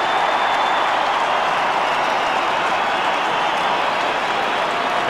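Stadium crowd roaring and applauding a goal by Tony Lockett in an Australian football match, a dense, steady wall of clapping and cheering throughout with no break.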